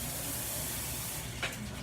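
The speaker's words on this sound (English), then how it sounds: "Hold on, let me rinse out this bowl." Steady hissing spray of tap water runs into a bowl being rinsed in a home kitchen, then breaks off with a brief splash near the end.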